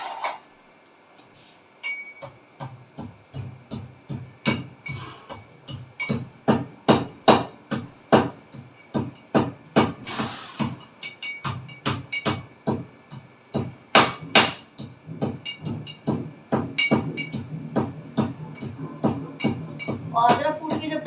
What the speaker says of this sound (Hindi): अभी अभी जरा अदरक कूट के डाल दूँ चाय में